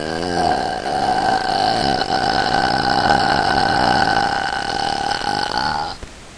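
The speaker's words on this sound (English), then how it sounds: "this is going to be a long burp, hopefully." A long, continuous burp from a girl, rough and steady for about six seconds close to the mic before it cuts off abruptly.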